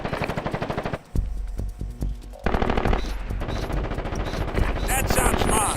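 Gunfire in the video game Ghost Recon Advanced Warfighter: loud, rapid machine-gun bursts, a short pause, then sustained automatic fire with overlapping shots.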